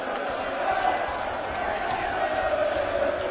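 The Winter Gardens darts crowd cheers through the 2013 World Matchplay final, a continuous, busy wash of voices and whoops with no single voice standing out.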